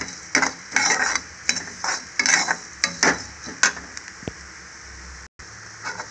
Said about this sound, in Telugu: జీలకర్ర కొంచెం దీన్ని ఫ్రై చేసేసుకున్నాం